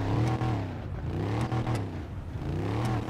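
Loud in-game engine note from a Mercedes-Benz GT63 S AMG BRABUS Edition, revving repeatedly with pitch swooping up and down, heard up close with no voices over it.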